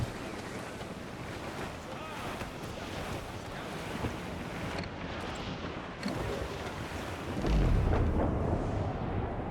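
A sailing ship runs before the wind at sea in Assassin's Creed IV, with steady gusting wind, rushing water and hull wash, and a deeper surge of waves near the end.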